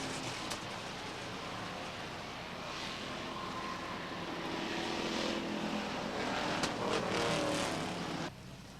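Race cars at Beech Ridge Motor Speedway during a 1993 ACT stock car race, engines droning steadily around the oval at a distance, swelling slightly louder before dropping off abruptly near the end.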